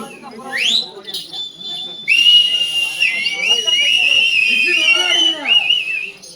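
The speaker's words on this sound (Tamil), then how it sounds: "அவர் தான் விசில் அடிச்சாரு" A person whistles at a Karakattam folk dance performance: a few short chirps at first, then loud, sustained, warbling high whistling, with voices murmuring in the background.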